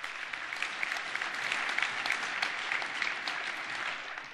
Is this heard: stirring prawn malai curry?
no